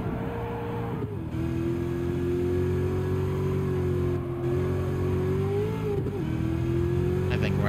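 Underpowered Camaro engine in the racing game Gran Turismo 7, a steady droning tone that dips with gear shifts at one and four seconds, then holds, under a game commentator's talk.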